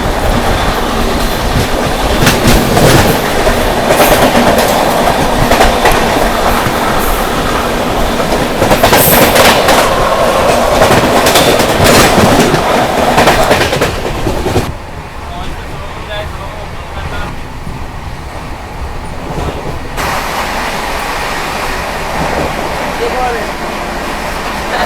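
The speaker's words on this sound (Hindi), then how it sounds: "सामने से आ रही है 12617 मंगला लक्षद्वीप एक्सप्रेस" Express train 12617 Mangala Lakshadweep Express roars past at a crossing, a loud rushing rumble with rhythmic wheel clatter that drops abruptly to a quieter steady rolling noise partway through, with someone talking over it.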